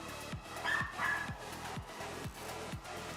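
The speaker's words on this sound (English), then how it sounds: "the puppies are losing their minds" Several puppies bark in repeated short yips and woofs at someone outside the door, a steady series of sharp barks roughly every half second, moderately near, with a little whimpering mixed in.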